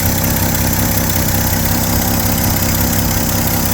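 A 1972 Chevy C10 pickup truck engine idling, loud and close, with a steady, even rumble and chug that holds unchanged throughout and no voices over it.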